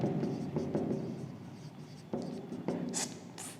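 A pen scratches across paper or a board while physics numericals are worked out, soft close strokes in short irregular bursts with small taps, heard alone without speech.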